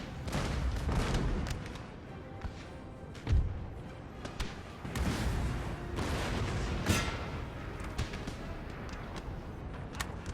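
Artillery barrage in the game Napoleon Total War, with a steady rumble of distant cannon fire and several heavier booms and thuds scattered through the battle din.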